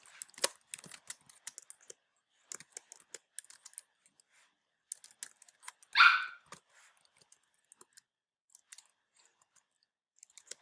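Sparse, irregular clicks of someone typing on a computer keyboard, faint and close, with short gaps between keystroke bursts and one brief louder noise partway through.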